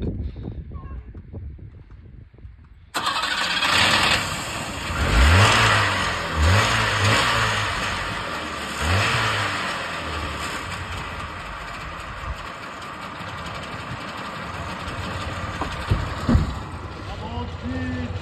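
A Trabant car, just repaired after a breakdown on a drive from Germany to England, starts abruptly and its engine revs up and down several times, loud and close, then settles into a steady running drone.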